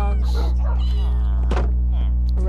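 Cats meowing in the Minecraft video game, a few short mewing calls heard close over a loud steady hum, with a voice speaking alongside.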